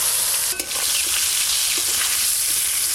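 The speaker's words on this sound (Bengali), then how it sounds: "আমগুলো একটু হালকা করে নেড়ে নেব।" Raw mango pieces stirred in hot oil seasoned with nigella seeds and turmeric give a loud, steady sizzle, with faint scraping from the stirring underneath.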